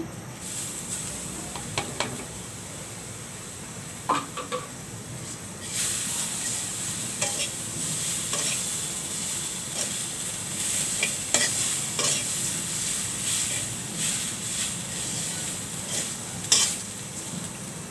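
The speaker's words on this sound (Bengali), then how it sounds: "সেমাইটা গরম করে নিলাম ঘামায় নিলাম এখন আমি এখানে নারিকেল গোড়াগুলো দিয়ে দিচ্ছি" Vermicelli with grated coconut roasting in a pan: a steady dry sizzle with repeated scraping and stirring strokes of a utensil, growing louder and denser partway through, with no talk.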